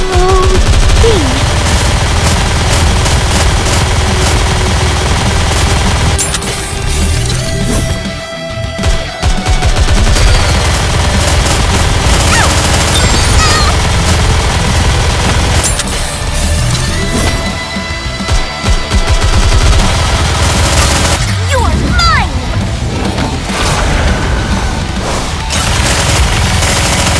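Rapid, loud video-game gunfire with bursts of automatic fire and booms runs continuously through a chaotic mobile battle, pausing briefly now and then before resuming.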